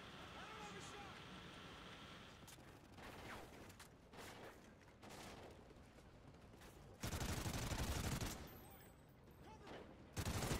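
Gunfire in Call of Duty: Ghosts comes as scattered shots and bursts under a rumbling background, with a loud, dense volley near the end. A voice speaks over parts of it.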